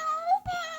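A Thomas and Friends sound book plays a brief electronic cat meow, a single tonal, slightly buzzy cry lasting under a second.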